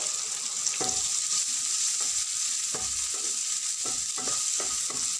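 Onion frying in a pan for an arbi curry, a steady close hiss of hot oil with scattered scraping taps as a spatula stirs, no voices.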